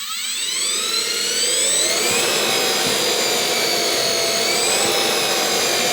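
An electric motor from an EV conversion kit whines under throttle, a loud steady high-pitched tone that rises in pitch as it spins up, with a constant mechanical hum close by and no one speaking.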